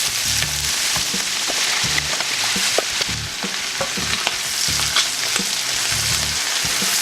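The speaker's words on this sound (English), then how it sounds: "Let it fry, let it fry, let it fry." Corn (maize) frying in a pan, a dense constant sizzle broken by rhythmic scraping and stirring strokes and low thumps of the utensil against the pan, close up.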